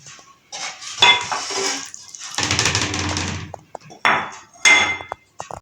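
Fried eggplant and potato sabzi is dished out of a pan, with metal utensils clinking and scraping against cookware in irregular bursts, some sharp and bright, others longer rattling scrapes.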